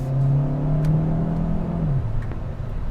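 A 2020 Hyundai Sonata with a 1.6 liter engine accelerating hard, a loud buzzy rising engine drone that climbs steadily, then drops as it shifts, with no talk over it.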